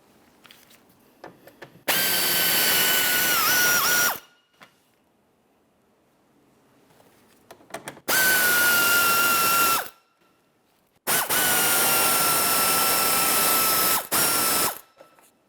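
A power drill unscrews Phillips head screws from the rear bumper cover of a 2003-2007 Honda Accord, in three loud whirring bursts of about two to three seconds each, separated by quiet gaps with faint clicks and handling.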